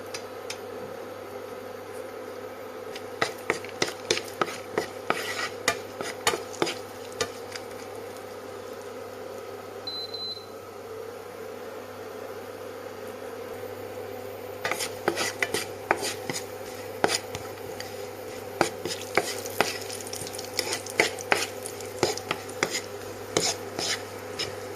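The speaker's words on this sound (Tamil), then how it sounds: "இதில் கொஞ்சமாக நெய் சேர்த்து நெய் உருகினோடனே கொஞ்சம் முந்திரி பருப்பு போட்டு" Cashews cook in melted ghee in a pan, heard as faint, scattered clinks and taps of a spoon stirring in two bursts over a quiet background.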